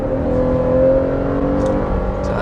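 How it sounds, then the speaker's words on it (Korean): A Chevrolet Traverse full-size SUV with a large-displacement engine accelerates hard. Its engine drones loudly and steadily from inside the cabin as it climbs, with no talking. "엔진 소리는 좀 거칠게 커지죠. 거칠게 올라옵니다."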